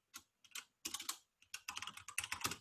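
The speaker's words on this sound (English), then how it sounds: "I'm typing a null because I expect you to use query selector." Quick bursts of keystrokes on a computer keyboard while writing web code, close and crisp, with short pauses between clusters of clicks.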